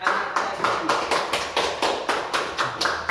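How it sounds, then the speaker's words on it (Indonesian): A classroom of students applauded, with steady rhythmic clapping in even bursts about three per second, fairly close and sustained throughout. "beri aplaus untuk anak-anak"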